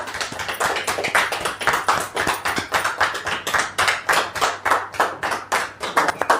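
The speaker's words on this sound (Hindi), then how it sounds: "जोरदार तालियों के साथ आप स्वागत कीजिए।" A small audience at a training session in a shop claps to welcome someone speaker, producing loud, close, rapid hand claps in an uneven but continuous patter that holds steady throughout.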